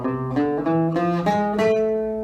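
A harmonic minor scale is played as a steady run of pitched instrument notes, about eight in just over two seconds, moving upward with each note sustaining cleanly.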